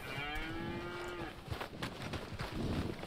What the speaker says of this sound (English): That's not a cow, that's an ox.